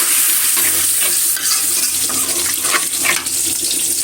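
Spices with dried chilies and onion sauté and get stirred in a pan, giving a close, continuous sizzle broken by scraping strokes, with no voices.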